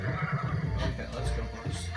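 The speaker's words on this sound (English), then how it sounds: "Okay, let's go, horse." A horse in the video game The Legend of Zelda: Breath of the Wild neighs and whinnies close up, riding over steady game ambience with a low hum and a faint voice.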